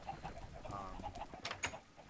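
Minecraft chickens on a farm clucking softly, a few faint scattered clucks and bird-like chirps over low background noise.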